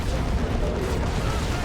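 A Manticore rocket artillery strike slams a Dreadnought in the Dawn of War 2 video game, a dense continuous roar of blasts and rumbling explosions, loud and sustained throughout.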